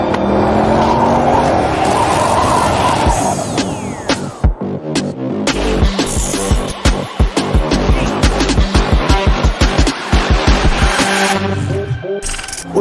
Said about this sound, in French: écoute-la, écoute le moteur.